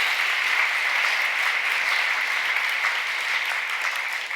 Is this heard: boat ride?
no